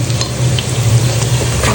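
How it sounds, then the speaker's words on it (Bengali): Onion, garlic and dried chili frying in a pan, a close, loud, continuous sizzle with stirring scrapes throughout. "আমি পেঁয়াজ রসুন আর শুকনো মরিচ একটু ভাজা ভাজা করে নিয়েছি"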